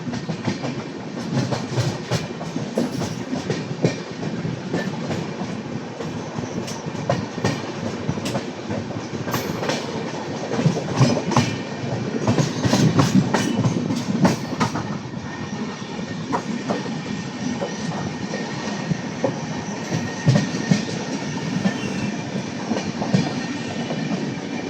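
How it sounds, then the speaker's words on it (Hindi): A passenger train rolls into Varanasi on a curve, with a continuous close rumble of wagons, rhythmic clickety-clack over rail joints and occasional wheel squeal, steady throughout with no talking. "क्या खूबसूरत कर्व के साथ बनारस एंट्री कर रही है हमारी ट्रेन"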